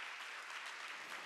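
Congregation clapping during a Korean Sunday church worship service, a steady, dense wash of applause filling the room, moderately distant and even throughout with no talk over it.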